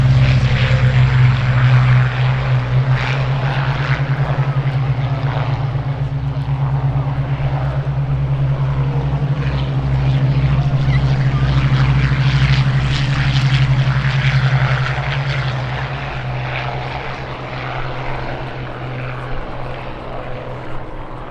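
A Grumman FM-2 Wildcat piston-engined fighter with invasion stripes takes off at an airshow at Duxford, its radial engine a loud, steady, throbbing drone that holds for most of the stretch and eases slightly toward the end.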